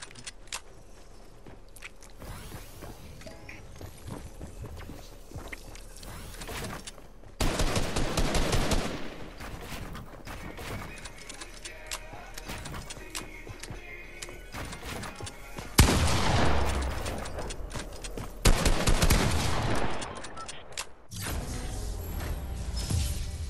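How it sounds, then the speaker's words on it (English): Fortnite gunfire erupts in dense bursts of rapid automatic shots, with louder volleys around the middle and near the end, over a busy game soundscape. "I shot you first."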